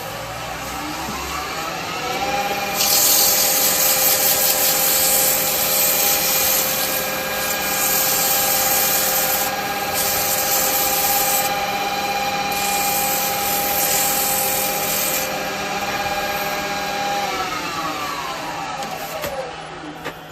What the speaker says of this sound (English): I can just do a little sand on the bottom of that